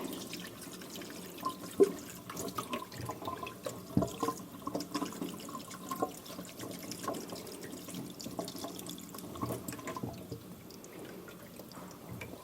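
Cold tap water runs steadily into a container, a continuous low trickling wash with small splashes and drips throughout, alone without talk.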